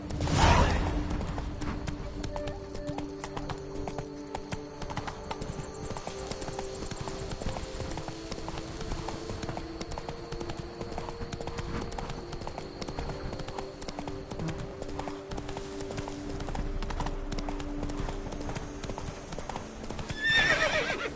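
A horse gallops in Witcher 3, a steady rapid clip-clop of hooves running on through the whole stretch, with whinnying and occasional breathy snorts close by and no talk.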